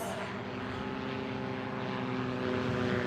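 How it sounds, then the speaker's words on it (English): A STOL aircraft with its propeller in reverse beta pitch during a STOL drag race makes a loud, steady droning roar of engine and prop, close and continuous, with no voices. "You can hear Hal engage that beta pitch prop about 300 feet from the finish line."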